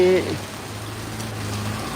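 Rain falls in a steady, even hiss over a brief voice-like tone at the very start, then continues alone as a constant wash.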